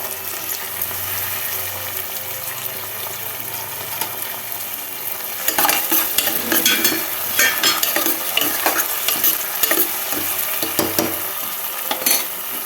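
Onions fry in a pan for boti curry, a continuous crackling sizzle with stirring that grows busier and more scraping partway through; no voices.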